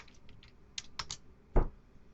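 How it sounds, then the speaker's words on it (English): A handful of soft keystrokes on a computer keyboard as a terminal command is typed, with one sharper key press near the end, close and quiet. "I'm going to open up another terminal, and I'm just going to type Bloodhound."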